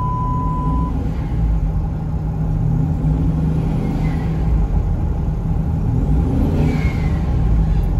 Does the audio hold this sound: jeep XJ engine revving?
yes